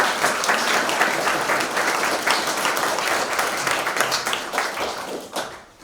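Wedding guests at a ceremony at The Three Kings applaud the ushers, a full round of clapping that holds steady and then tapers off at the end.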